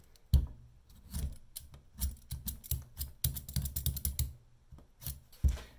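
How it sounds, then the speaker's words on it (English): Close, rhythmic scraping strokes from peeling a waxy-skinned rutabaga in a kitchen, coming in quick bursts with brief pauses between them and no talking. "With me here is a rutabaga. I don't know if I'm saying that right, but we're going to be peeling it."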